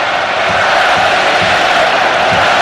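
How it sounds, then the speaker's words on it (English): A loud stadium crowd roars and cheers steadily at a 2018 Russia v Spain football match, a dense continuous wall of voices. "you can hear the crowd trying to lift the Russian team"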